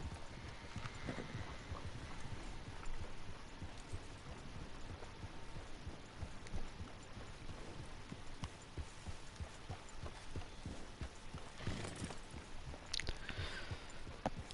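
A horse's hooves clip-clop at a steady walking pace in Red Dead Redemption 2, continuous and moderately close, with occasional tack rattles and faint background ambience.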